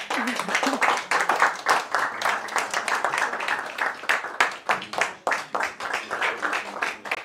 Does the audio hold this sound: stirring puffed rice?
no